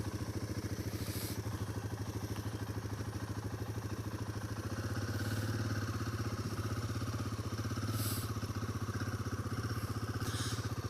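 A Royal Enfield Himalayan 450 motorcycle idles steadily after starting, a close, even mechanical thrum with a rapid regular pulse and light clatter running unbroken throughout.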